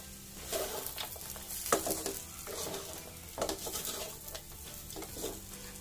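Samosa potato stuffing with raisins being stirred in a hot pan: a continuous close sizzle with a few louder scraping strokes of the spoon. No one speaks.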